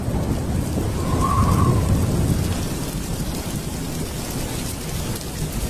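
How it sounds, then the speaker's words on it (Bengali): Heavy rain pours in a dense steady roar with low rumbling thunder underneath, a downpour in an animated cartoon scene, loud and unbroken throughout. "বাইরে ঝমঝম করে বৃষ্টি পড়ছে।"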